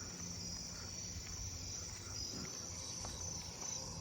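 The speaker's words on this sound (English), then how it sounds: "A Japanese burrowing cricket." Japanese burrowing cricket chirping outdoors on a late-summer night, a faint, steady trill sitting under a dense bed of other insect calls, distant and continuous for the whole stretch.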